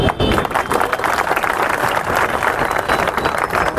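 Dense, loud applause from a crowd at an election campaign rally in a residential colony, a continuous roar of many hands clapping close by with crowd noise mixed in.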